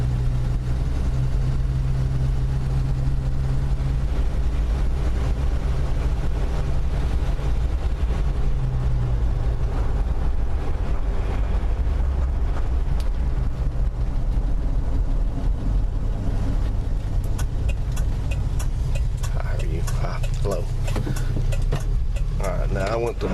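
Plymouth Valiant driving in manual low gear, a low engine drone and road rumble underneath someone talking throughout, steady and moderately quiet.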